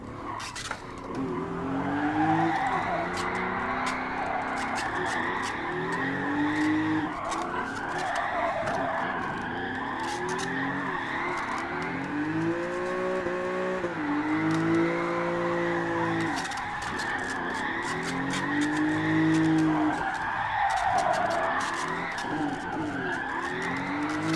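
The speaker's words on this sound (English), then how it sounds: "Oh dear, it's not looking a promising drift." Tyres squeal continuously while a car drifts around a skid pad in a racing sim video game, with a long, wavering screech over steady engine drone that keeps going for the whole stretch.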